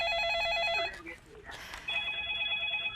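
Telephone ringback tone while a call to a live stock-advice broadcast is being connected, a repeating electronic ring that stops, a brief rustle, then a steady tone resumes.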